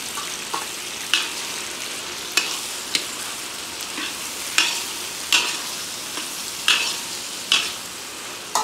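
Tomatoes fry in a pan for pasta, a continuous sizzle punctuated by regular sharp scrapes and taps of a spatula stirring every second or so, close and clear with no talking.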